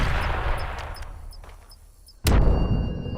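A rumbling blast of gunfire in Far Cry 3 fades out, then after a short pause a sudden loud shot bursts in and keeps booming.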